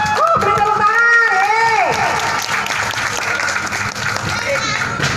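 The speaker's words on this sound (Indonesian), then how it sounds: "Beri tepuk tangan." Audience applause at a live Lenong theatre show in Indonesia, loud and steady, with a voice calling out over it at the start and crowd noise continuing throughout.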